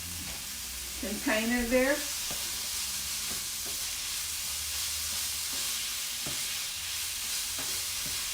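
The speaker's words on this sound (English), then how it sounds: "And I'm going to go ahead and put my steak in." Continuous steady sizzle of steak frying in a pan alongside caramelized onion, with a brief voice near the start and faint scraping and stirring knocks throughout.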